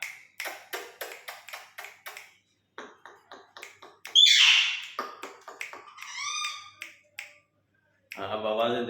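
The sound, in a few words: pet mynah and parrot calling to each other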